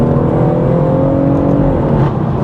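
A BMW M140i Shadow Edition hot hatch, tuned to 460 bhp, gives a steady, loud engine drone as it accelerates under load, heard close and continuous without talk.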